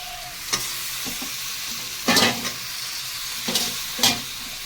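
Chicken with potato, pointed gourd and capsicum sautéing in hot oil in a pan, a steady sizzle broken by several loud scraping stirs of the spoon, close and with no talking.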